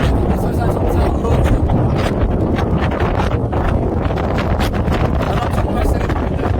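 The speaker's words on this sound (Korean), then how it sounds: "바람 정말 세게 붑니다." Strong wind gusts roar steadily across a snowy mountain near a cliff edge, a loud broadband buffeting on the microphone that never lets up.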